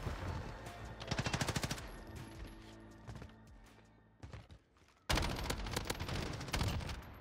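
RAM-7 assault rifle from Modern Warfare firing in rapid automatic bursts, loud and close, with a pause in the middle before another sustained burst of gunfire.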